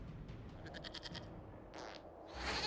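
A goat gives short, wavering bleats over a noisy game soundscape with rumbling background in Dragon Age: Inquisition.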